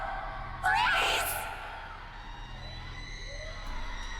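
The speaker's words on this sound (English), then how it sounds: "All throughout the house, shouts of alarm and surprise ring out" Shouts of alarm and surprise ring out through a house, a burst of loud, echoing yelling and screaming voices that peaks early and then fades into a lingering, hollow reverberant murmur.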